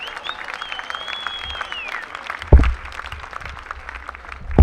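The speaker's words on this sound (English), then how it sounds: "So let's give them a big round of applause again here and give the whole staff here a big thank you." A crowd claps in the stands at a Newport Gulls versus Danbury Westerners summer baseball game. The applause is moderate and scattered, with a whistle early on and a couple of heavy low thumps partway through and at the end.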